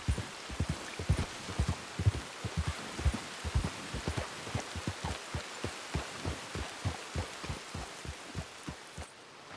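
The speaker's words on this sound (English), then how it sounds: "The rain hadn't let up for some time, so John had decided to stop for a bit" Steady rain in the Red Dead Redemption video game, falling in a dense, even patter of drops with a regular pulsing rhythm, close and continuous with no voices.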